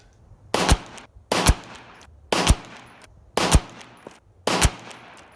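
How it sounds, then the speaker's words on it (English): Five loud, sharp 9mm shots from an FM9 pistol with a 5-inch barrel ring out at an outdoor shooting range, evenly spaced about a second apart, each with a short echoing tail and no talking. "15 rounds shot in a row"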